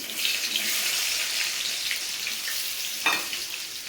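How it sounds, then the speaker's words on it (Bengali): Onion fries in a wok of hot oil, giving a close, even, hissing sizzle throughout, with a short louder burst of crackle near the end. "কড়াই দিয়ে দিচ্ছি পেঁয়াজ"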